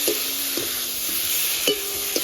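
Spices, tomato and potato being sautéed for a silver cup fish curry: a steady faint sizzle with a few scraping stirs of a spoon in the pan, close and quiet, no voices.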